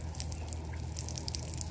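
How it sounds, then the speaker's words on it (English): A water-fed pole sprays a steady hiss of water over the French windows of a house during residential window cleaning, with scattered drips and splashes throughout and no voices. "so we're just gonna water feed everything."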